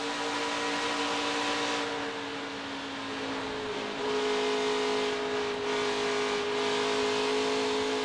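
A NASCAR Truck Series race truck engine held on throttle at Atlanta, a steady loud drone with a sustained tone that dips briefly around midway, then resumes at a slightly higher, even pitch.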